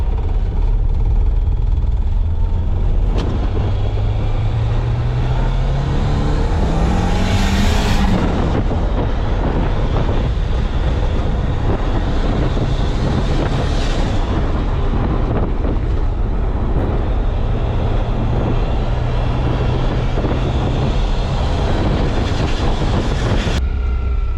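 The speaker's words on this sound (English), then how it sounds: "Driving up the dyno in style." A car's engine runs hard on a dyno with a loud, steady roaring drone and a rising tone as the revs climb, with heavy rumble and wind-like rushing throughout.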